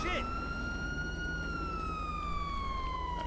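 A police car siren wails in the GTA V LSPDFR game, one long falling tone sweeping steadily downward over a low engine rumble, loud and close throughout.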